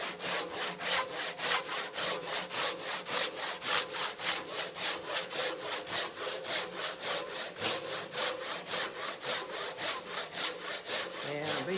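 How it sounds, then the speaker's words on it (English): A Japanese hand saw cuts through wood in quick, even strokes, a steady rhythmic rasp repeating about three times per second, close and loud, with no voices over it. "I'm basically just going to continue sawing until I've got a diagonal line from this corner down to this corner."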